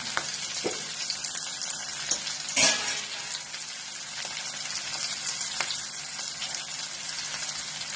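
Chopped bell peppers sizzle steadily in a pan with turmeric added, a dense continuous frying hiss with a few stirring clatters and one louder scrape near the middle, no voices.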